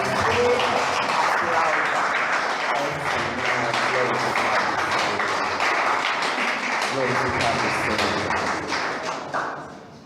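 A church congregation claps together during an evangelical sermon, a steady, dense wash of applause that carries on for several seconds before fading.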